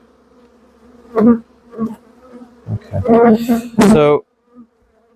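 Honey bees buzz around an open hive box during a colony check, a close, wavering hum with louder swells as individual bees pass near, while a person speaks briefly.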